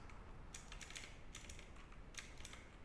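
Keystrokes on a computer keyboard come in three short, quiet bursts of rapid clicking, separated by brief pauses, with no talking.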